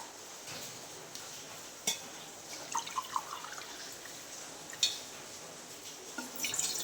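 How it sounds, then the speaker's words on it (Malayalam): Water poured into a cooking pot to make oats, measured out by the glass, comes through as faint trickling with light clinks of the glass and pot against quiet kitchen background. "ഞാൻ ഈ ഗ്ലാസ്സിനാട്ട് അളന്നൊഴിക്കണേ"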